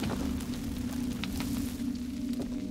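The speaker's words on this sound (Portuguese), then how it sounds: "Vou tacar fogo aqui." Enemies set on fire in the horror video game The Evil Within, a steady, dense roar and crackle of flames that stays loud and even throughout, with a low hum underneath.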